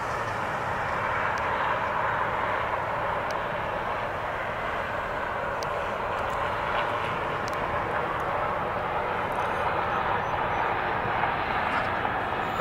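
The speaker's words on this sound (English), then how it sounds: "Staff helicopter." A staff helicopter flies over the White House grounds, producing a steady, broad rushing drone that stays at an even, moderate loudness throughout.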